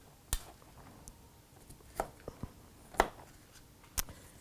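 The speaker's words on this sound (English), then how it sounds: "I'm just cutting the bottoms off the stem and cutting these in half" A kitchen knife cuts the bottoms off vegetable stems and halves them on a cutting board: a handful of faint, sharp clicks and taps spaced irregularly in a quiet room.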